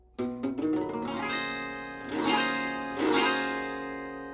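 Big chord on a 24-string E Nightingale with sympathetic strings, plucked in a quick rolling run then strummed twice more, each leaving a shimmering, long-ringing resonant wash, played close and alone.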